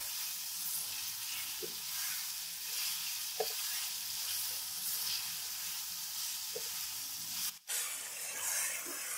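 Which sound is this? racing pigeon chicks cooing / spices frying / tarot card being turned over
spices frying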